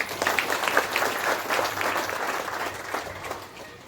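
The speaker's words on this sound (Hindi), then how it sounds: "मैं चाहती हूँ एक बार इनके लिए जोरदार तालियां" Applause from an audience at a Safe Shop business meeting, honoring the speaker's upline leaders; dense, steady clapping carries on for several seconds, moderately loud, then fades slightly toward the end.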